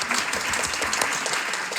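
A seated audience at a teacher recognition ceremony gives steady applause, a continuous roomful of moderate clapping with no voices over it.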